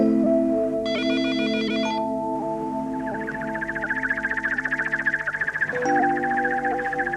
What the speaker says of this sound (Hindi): अच्छा मैं ज़रा फ़ोन सुनाऊँ।